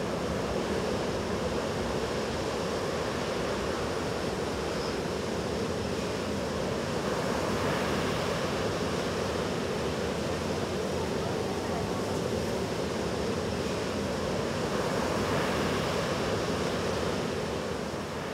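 Ocean surf at a surfing competition held in poor conditions: a continuous broadband roar of breaking waves mixed with wind buffeting, steady and fairly loud for the whole stretch with no distinct break.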